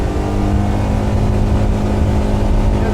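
Mercury 60 outboard on a 2005 Jetcraft 1625 boat running near full throttle, a loud steady engine drone with strong low rumble and dense broadband roar, close up and continuous throughout.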